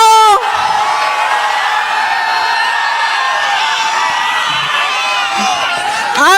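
A large political rally crowd in Bihar cheering and shouting loudly and continuously, a dense roar of many voices with whoops, bracketed by brief amplified sounds at the start and end.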